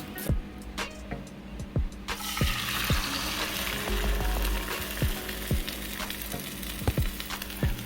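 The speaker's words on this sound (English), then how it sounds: "it's hot because the egg is frying" Steady crackling sizzle of an egg frying in hot oil, continuous and close, with occasional sharper pops and clinks from a utensil.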